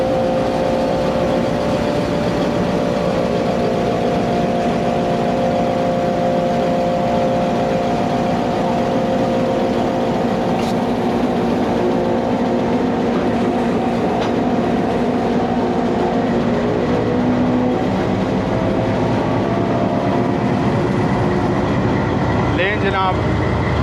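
At a Pakistani station on the Fareed Express route from Walton to Kasur, a locomotive sits coupled to its train with a loud, steady engine drone and rumble, and a rising hiss or whistle near the end.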